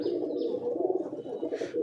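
Domestic pigeons in a home loft coo close by in a low, continuous, throaty rolling sound with a faint higher chirp near the end.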